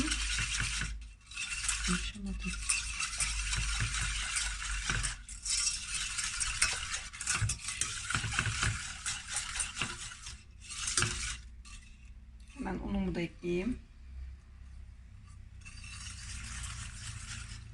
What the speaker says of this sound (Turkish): Evet şekeri ve yumurtayı koydum. Şöyle güzelce çırpayım